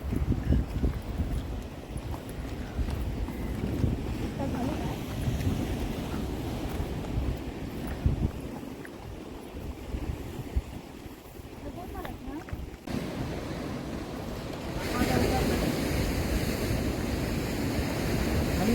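Sea waves wash steadily against the shore by Sindhudurg Fort, a continuous surf roar mixed with gusty wind buffeting the microphone, with voices faintly present.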